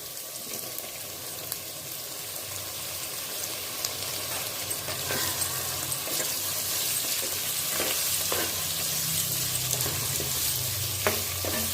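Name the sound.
tomatoes and onions sautéing in pan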